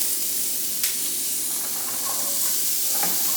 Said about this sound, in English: So now we're going to cook our vegetables in this same pan.